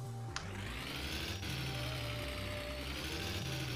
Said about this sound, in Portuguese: Ouve o turbo.